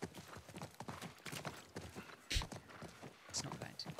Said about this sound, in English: Surely my horse could just gallop over.